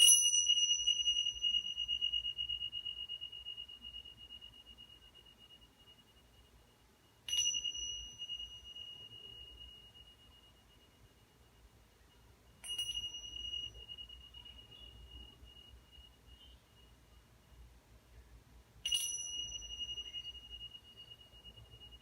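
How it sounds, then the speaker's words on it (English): Bells are chimed four times at spaced intervals in a quiet room, each bright ringing strike decaying slowly into near silence before the next. "I'm going to chime the bells, and then when you hear the vibrations"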